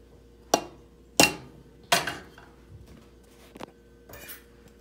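Noodles are stirred into Alfredo sauce in a pan for Philly cheesesteak Alfredo, giving a few sharp utensil scrapes and clinks against the pan, then softer intermittent clatter, close and clear with no talking.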